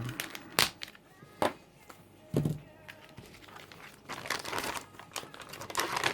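Scissors cutting a plastic vacuum sealer bag, a few sharp crinkling snips and rustles at close range, fairly quiet.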